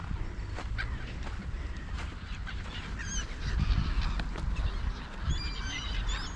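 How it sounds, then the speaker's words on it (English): A flock of waterfowl and gulls honks and calls, geese and ducks overlapping in repeated nasal cries over a low rumbling background, in Switzerland. "It's a nice collection of birds here."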